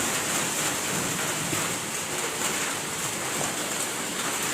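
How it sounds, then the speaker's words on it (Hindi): Heavy rain pours steadily outdoors at a home, a dense continuous hiss of drops at close range with no voices over it. "बारिश खूब हो रही है।"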